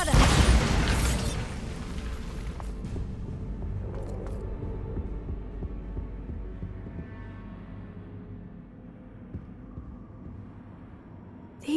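A Bombarda blasting spell goes off in Hogwarts Legacy, a loud deep boom at the start that rolls into a long rumbling tail with debris clatter, gradually fading over several seconds.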